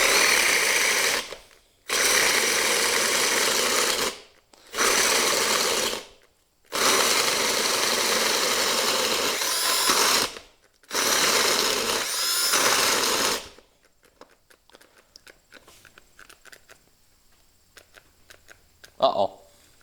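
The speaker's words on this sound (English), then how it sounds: "It keeps stalling out, I'll note. So the stopping is not for me. The drill is actually stopping." A Harbor Freight Hercules cordless drill whirs loudly in five sustained bursts, each cutting off abruptly as the motor stalls, followed by near silence with a faint click at the end.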